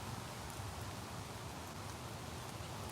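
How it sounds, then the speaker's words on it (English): Heavy rain falls steadily at an outdoor big cat sanctuary, a dense constant hiss that stays faint and even, with no talking. "That's actually aggressive rain."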